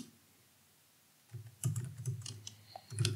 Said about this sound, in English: So I can type here.